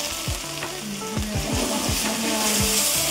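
Diced tomatoes fry with a little sugar in a hot pan, giving a steady crackling sizzle broken by repeated scraping strokes of a spatula stirring the mix.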